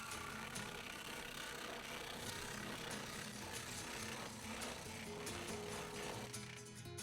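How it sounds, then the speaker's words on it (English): An oscillating spindle sander fitted with a large spindle runs in a workshop, giving a steady, buzzing machine drone with light scraping over it, fairly faint and with no talking. "I thought I'd go ahead and show you my larger spindle in my oscillating spindle sander and just show you how it works."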